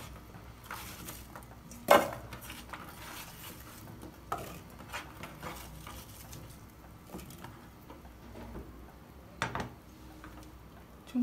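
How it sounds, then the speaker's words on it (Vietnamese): Sliced ginger and other ingredients are dropped into a cooking pot, giving a few sharp clinks and taps against a quiet kitchen background, with one louder knock near the start and another later. "Các bạn hãy chuẩn bị một cái nồi và cho tất cả vào."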